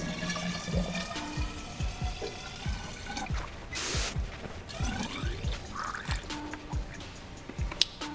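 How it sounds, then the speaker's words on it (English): Water poured into the cooling system of a 1972 TVR 2500M, heard up close as gurgling, splashing liquid. It comes with irregular knocks and a short gush partway through. "I always like to put in water at first before I know that it's not going to leak."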